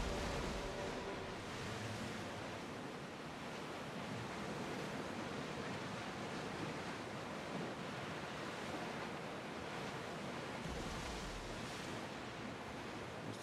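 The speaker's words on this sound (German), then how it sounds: "Das Meer ist schön ruhig, so gefällt mir das." Calm sea waves in the video game Assassin's Creed Odyssey, a steady, soft wash of surf with gentle wind, even and continuous throughout with no voices.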